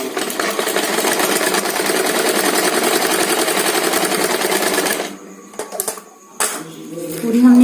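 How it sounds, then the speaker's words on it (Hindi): A sewing machine stitches fabric cut from an old saree, running in a steady rapid mechanical whir for about five seconds, then stopping and giving a few short bursts and clicks. "यहाँ से हम इसको सिलाई करेंगे"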